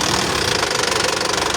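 An Isuzu 4JB1 2.8-litre intercooled turbo diesel engine running, heard up close as a loud, steady knocking rumble with a rapid, even diesel clatter and no voices.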